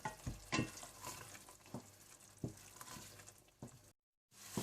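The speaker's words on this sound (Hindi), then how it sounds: "टमाटरों के छिलके उतारने के बाद आप इन्हें अच्छी तरह से भून लें," Peeled tomatoes fried and stirred in a pan toward a paste for chicken jalfrezi. A quiet sizzle runs under soft scraping stir strokes, broken by a brief moment of silence near the end.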